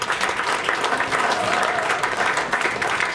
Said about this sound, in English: So how about give yourselves a round of applause, friends and family.